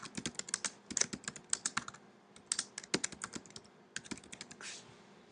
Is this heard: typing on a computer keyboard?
yes